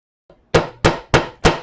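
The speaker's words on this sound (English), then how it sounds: "and the hammer, so you can flare it too." Four sharp metallic hammer strikes flare a snare drum part on a dapping block, evenly spaced about a third of a second apart, loud and close with ringing decay and no talk.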